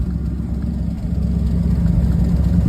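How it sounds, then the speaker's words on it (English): A 1979 Ford F350 with a four-barrel carburetor idles in park, a steady low rumble with an even, slightly lumpy pulse, close and continuous. "I feel like that idle could be turned down just a little bit"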